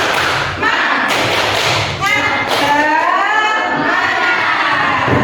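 A classroom of children performs a rhythmic spirit clap, bursts of clapping and thumping mixed with loud young voices chanting and cheering together.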